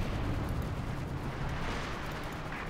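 An artillery barrage in Company of Heroes 2 makes a dense, continuous roar of overlapping blasts and rumble, loud and steady throughout with no clear gaps.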